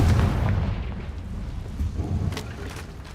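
A Confringo fire spell in the PC game Hogwarts Legacy detonates in a heavy, rumbling boom that rolls on as a dense low roar before thinning out, with a couple of sharper cracks near the end.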